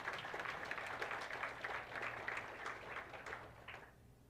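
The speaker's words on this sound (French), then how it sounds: "donner une bonne main d'applaudissement pour nos pères ce matin" Church congregation applauding fathers during a Sunday morning service, a dense, steady crackle of many hands spread through the room that fades out near the end.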